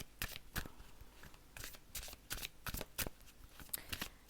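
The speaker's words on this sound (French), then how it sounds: "Alors, je bats les cartes" Tarot cards are shuffled by hand in a quiet room: soft, close riffling bursts repeat irregularly, each a brief papery flutter separated by short pauses.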